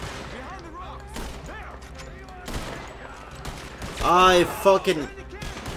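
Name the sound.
gunfire in video game Red Dead Redemption 2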